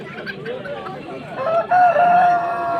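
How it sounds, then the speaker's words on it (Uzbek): Decorative bantam chickens at a poultry market in Namangan, clucking and calling close by with a bright sustained crow-like call near the end, over background market murmur. "Bu ham dekorativ tovuqlar."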